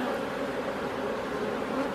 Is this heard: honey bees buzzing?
yes